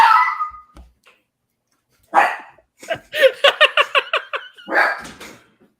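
A dog gives a burst of sharp, rapid barks, about ten in quick succession, plus a few scattered yips and a whine, fairly close and loud, with silent gaps between the bursts.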